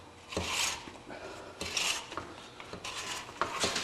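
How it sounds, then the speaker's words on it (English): The recoil starter spring of a Honda GX160 engine is wound by hand, giving repeated scraping, ratcheting mechanical bursts in an uneven rhythm, close and fairly quiet, with no voices. "We're going to wind our spring up the way that the rope pulls out."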